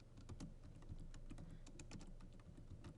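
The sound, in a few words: pressing keys on a computer keyboard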